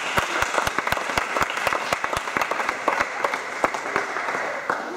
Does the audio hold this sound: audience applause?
yes